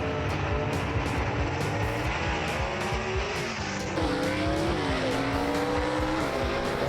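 A 1962 Comet gasser drag car with a Lamar Walden race engine launching at a drag strip, a loud sustained engine roar rising in pitch as it revs and pulls away, with a crowd and commentary faintly beneath.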